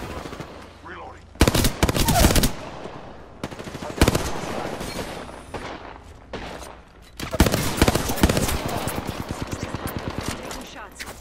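Gunfire in an Apex Legends arena match: bursts of rapid automatic shots, loud and close, broken by short pauses, then a long steady rattling volley near the end.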